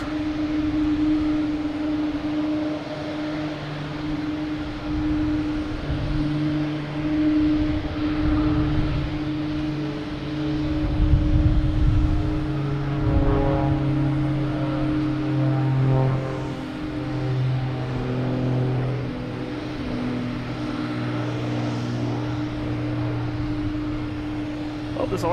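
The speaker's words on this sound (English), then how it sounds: "we got a Cape Air, Cessna 402," A Cape Air Cessna 402 twin-engine propeller plane heading to Hyannis from Boston Logan Airport drones steadily and loudly with a sustained engine hum that swells midway, while people talk intermittently over it.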